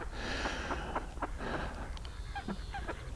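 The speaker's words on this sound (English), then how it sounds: "I'm going to have to apologise for the bird noise here," Short bird calls and chirps from a nearby nature reserve sound intermittently over a steady low outdoor rumble, some sharp and close, others fainter.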